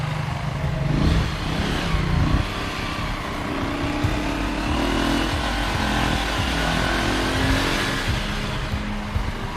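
Motorcycle engine revving and idling amid traffic in Haiti, a steady loud mechanical drone with rising and falling throttle over the whole stretch, no voices.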